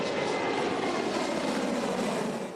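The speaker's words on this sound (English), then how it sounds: "The roar of jet engines over LAX and America's busiest airports is about to quiet to a hush." Jet airliners roar over LAX airport, a loud continuous broadband rumble of aircraft engines that holds steady, then begins to fade at the very end, with no voices.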